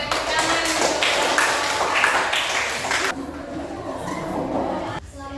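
A class applauding after a group presentation, dense close clapping for about three seconds, then thinning into scattered claps with voices talking over it before a brief stop.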